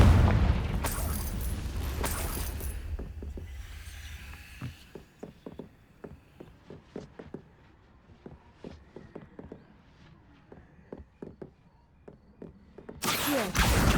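Confringo spell blasts in Hogwarts Legacy: a heavy explosive boom opens, then quiet stretches dotted with short pops and footsteps, and another loud burst near the end.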